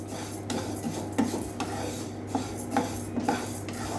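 Moong and urad dal roasting in a pan over a medium gas flame, grains rustling and clinking as a utensil stirs them in repeated scraping strokes, steady and close with a low hum underneath.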